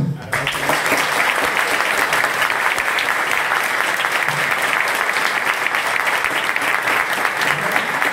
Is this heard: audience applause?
yes